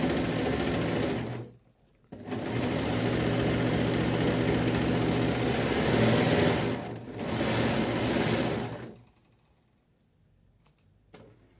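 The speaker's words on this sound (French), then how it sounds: "Et je vais coudre la manche et les coutures de côté en un tenant." A sewing machine runs steadily as it stitches the sleeve and side seams of a shirt in one pass, humming continuously for long stretches with two brief stops, then falling quiet near the end.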